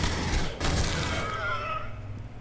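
Smart gun firing in Aliens: Colonial Marines, a dense burst of loud gunfire with booming impacts that tails off into a fading whine.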